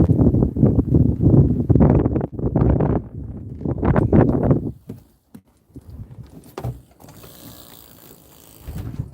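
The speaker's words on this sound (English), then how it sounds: "Now the wind is starting to drown you out" Gusty wind buffets a microphone outdoors on a deck, a heavy low rumble swelling in bursts for about five seconds, then easing to a softer, steadier whoosh.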